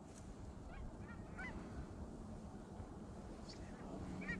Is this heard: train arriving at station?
no